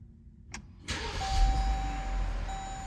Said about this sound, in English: we're going to use the top of the key fob right here to press the stop start button